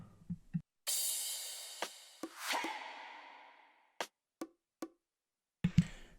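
Electronic effects: a bright noisy crash that washes out and fades, a second swelling sweep, then a few sharp clicks and short thumps, fairly quiet and isolated.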